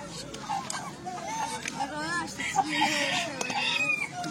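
Chickens clucking and cackling at a poultry market in Kurgan, with repeated nearby squawks and calls mixed into busy crowd chatter and voices talking throughout.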